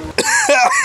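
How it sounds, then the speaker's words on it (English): A single hoarse cough from a person with a sore throat on a beach, short and close, with a throaty rasp. "But I have a bit of a cough."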